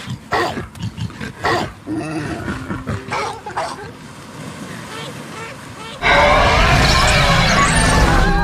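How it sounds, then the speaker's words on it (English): Stock creature roar sound effect used for creatures in the Spore video game, a sudden loud, harsh, sustained roar arriving after several seconds of assorted game sounds and scattered thuds. "I'm also gonna use the universal stock roar sound effect"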